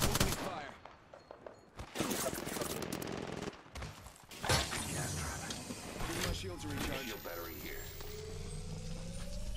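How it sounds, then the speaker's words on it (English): Gunfire crackles through an Apex Legends match, with bursts of shots and automatic fire coming from the side amid game effects and a steady mechanical hum. "Oh, I'm being shot from the side."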